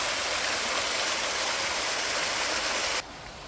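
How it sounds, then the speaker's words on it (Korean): Rushing water of a small valley stream waterfall in the countryside near Dunnae, a steady loud hiss that drops abruptly to a quieter level near the end, with no voices. "소리도 맑고 계곡 물소리도 맑고"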